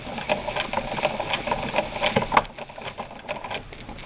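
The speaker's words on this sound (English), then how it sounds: "And use the hand crank instead of the motor." Bishop Sewing Systems sewing machine turned by a hand crank, stitching a wide zigzag: a soft, fast, irregular patter of needle clicks and mechanical ticking, close and continuous, with a brief sharper click partway through.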